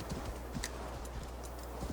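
Steady hoofbeats of a horse in the video game Assassin's Creed Valhalla clip-clopping in a quick, regular rhythm over a low, constant background drone.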